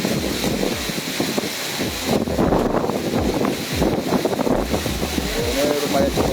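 Strong wind in heavy rain at Pangandaran beach buffets the microphone in a constant, gusty, rumbling roar, with someone talking over it.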